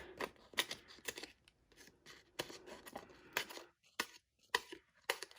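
Scissors snip through paper for a handmade Easter card, a string of crisp, quiet cuts in an irregular rhythm, close up and alone.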